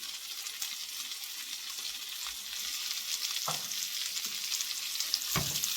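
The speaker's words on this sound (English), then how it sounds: "We're just going to let these saute for about 5 minutes" Onions sauteing in bacon grease in a pan give a steady, fairly loud sizzle and crackle throughout, with a couple of brief stirring scrapes, and no one talks.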